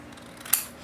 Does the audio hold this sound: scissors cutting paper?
yes